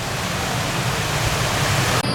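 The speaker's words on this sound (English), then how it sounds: "then another waterfall over here with a mermaid" Waterfall splashing steadily over rocks beside a mermaid figure at a paid mini golf course in Pigeon Forge, a close, loud broadband rush that holds unchanged throughout, with no voices.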